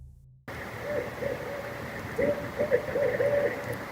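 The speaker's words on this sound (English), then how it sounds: "There's an owl over there. I love owls. I can hear it." An owl hoots several times in short repeated calls over a steady outdoor background hum, moderately close and clear.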